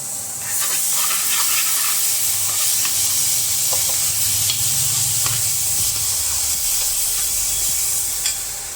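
Nutri sabji masala sizzles loudly and continuously in a pan, a bright steady hiss with occasional scraping stirs and small clinks, no voices.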